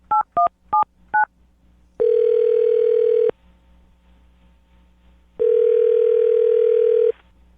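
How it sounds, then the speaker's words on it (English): A phone number is keyed in as four quick touch-tone beeps. Two long, steady ringback tones follow, separated by a short silence, all clear and close with no voices. "I'm going to dial her phone number right now"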